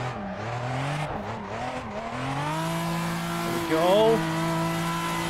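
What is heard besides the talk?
Toyota Supra engine revving while drifting in Assetto Corsa video game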